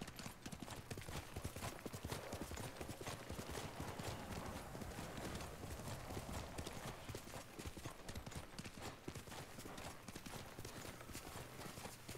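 Horse hooves clip-clopping in the Ghost of Tsushima video game, a steady dense run of hoofbeats over a wash of ambient noise, continuous throughout.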